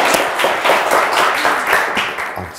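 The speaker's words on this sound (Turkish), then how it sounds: "Alkışlar çabuk gelmedi." A studio audience on a Turkish TV word-quiz show claps in a dense, continuous burst of applause, loud and close, with no talking over it.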